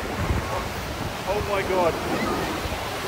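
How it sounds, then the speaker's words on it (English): A 250-foot waterfall roars as a continuous broadband rush mixed with wind buffeting the microphone, loud and steady, while a voice exclaims over it. "That is a 250 foot waterfall."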